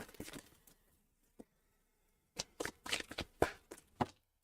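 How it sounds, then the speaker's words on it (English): Tarot cards being shuffled in bursts of riffling and papery slapping, quiet at first, then a pause, then a busier run of several louder shuffles close by. "now I can shuffle in earnest"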